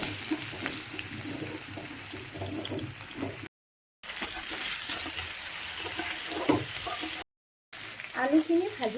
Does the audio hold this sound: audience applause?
no